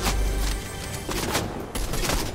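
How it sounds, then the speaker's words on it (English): Rapid gunfire from a Fortnite match, shots striking a metal railing, sounding as a dense, loud burst of rattling fire that breaks briefly and then resumes. "Dad, you're just shooting the railing."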